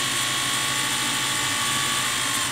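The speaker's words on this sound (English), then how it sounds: "wind the bobbin." An industrial sewing machine winds a bobbin, a steady, close, continuous mechanical whir with fine rapid ticking that holds evenly throughout, with no talk.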